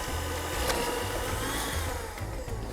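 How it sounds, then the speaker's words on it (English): Electric mixer softening margarine for a cinnamon coffee cake, a steady close-up motor whir with a wobbling low hum as the beaters work through the fat, no talking. "an electric mixer like this one, you can still use a whisk"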